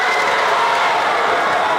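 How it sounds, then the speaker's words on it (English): Crowd at a high school CIF wrestling finals match, a dense, loud roar of cheering and shouting that stays at full intensity for the whole brief moment. "Crowd's going crazy."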